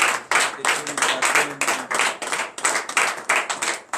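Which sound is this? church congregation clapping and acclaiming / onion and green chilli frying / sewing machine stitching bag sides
church congregation clapping and acclaiming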